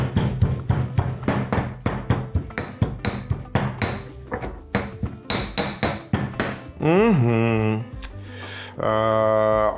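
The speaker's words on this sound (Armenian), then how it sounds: "Սա էլ ծեծում և տրորում ենք։" Garlic and walnuts pounded in a mortar: a fast series of sharp, close, ringing strikes for several seconds, followed by two sustained vocal tones near the end.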